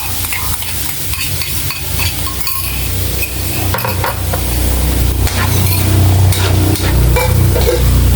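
Chopped garlic fries in a hot pan with a loud, steady sizzle that builds over time, broken up by stirring and the light clink of a utensil against the pan, with no talking.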